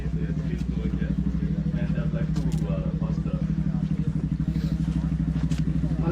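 A stunt motorcycle engine chugs in fast, steady pulses close by while it is set up for a burnout, with people talking over the engine throughout.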